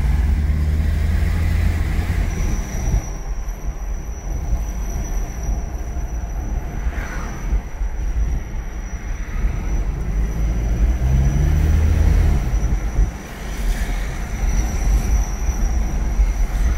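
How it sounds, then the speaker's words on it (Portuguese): Toyota SW4 driven slowly down a street with a loud scraping, grinding noise from underneath, a continuous rumbling drag over road noise with occasional squeal-like rises, steady and close throughout. "Você ouviu o barulho sinistro que estava fazendo nesta SW4?"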